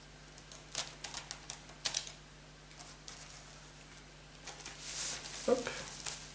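Plastic shrink wrap is peeled off a CD box set, giving faint, scattered crinkles and rustles that build into a louder crackling burst near the end, with no talking.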